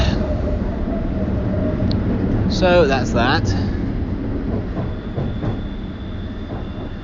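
Eastbound underground subway train heading toward Berkeley, a loud rumbling ride with clattering wheels and a brief squeal of metal, while someone speaks a few words over the din.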